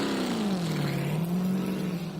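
A V8 drift car at a drift series event revs hard on a smoky track, its engine note rising and falling in one continuous loud, close roar with no talk over it.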